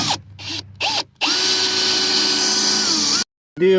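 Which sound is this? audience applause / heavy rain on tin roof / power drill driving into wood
power drill driving into wood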